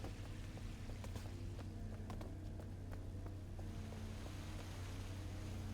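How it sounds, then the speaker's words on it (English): Steady, full-bodied rushing of a waterfall in the video game URU, a continuous broadband roar with low rumble, heard alone without voices and holding at an even level throughout. "Sounds like a waterfall."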